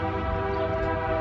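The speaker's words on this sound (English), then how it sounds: "There's the train." A train somewhere in historic downtown Hillsboro sounds steadily and moderately loud from a distance, a sustained tonal horn-like drone over low rumble, with no talking.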